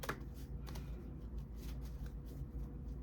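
Tarot cards shuffled and drawn by hand, a soft, quick riffling and flicking that runs continuously over low background hum, faint and close, with no talk.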